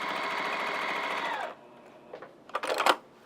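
A sewing machine runs steadily for about a second and a half while stitching a fabric dog waste bag pouch, then stops, followed by a few faint clicks and rustles of handling.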